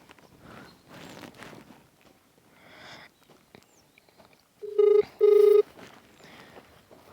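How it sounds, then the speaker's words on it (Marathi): A telephone ringback tone sounds twice in quick succession, loud and steady, after some quiet rustling and shuffling. "दादाला फोन लावते"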